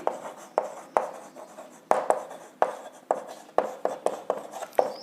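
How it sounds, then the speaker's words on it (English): Marker or chalk writing on a board during a chemistry lecture, a rapid series of about twenty close scratchy strokes and taps in an uneven rhythm, with no talking. "So that point I'll write here."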